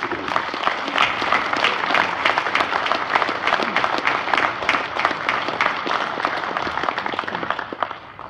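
Sustained audience applause at a farm forum awards ceremony as winners from Shepherd's Grain are congratulated, a dense, steady wash of many hands clapping throughout and tapering slightly at the end.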